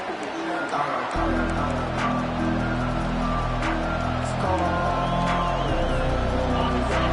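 Football stadium crowd at a Tennessee Vols game, a steady roar of cheering and noise filling the stands, loud and continuous after a brief quieter opening.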